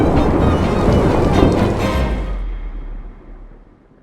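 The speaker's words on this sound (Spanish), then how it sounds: "cómo llueve aquí" Heavy tropical rain pours down in Madagascar, a dense broadband roar of rainfall that holds loud for about two seconds and then fades away toward silence.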